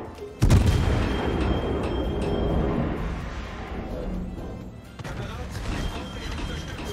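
Naval guns fire and shells explode in a warship video game, with a sudden heavy boom followed by a long rumbling roar and a second, softer impact, while a voice talks over it.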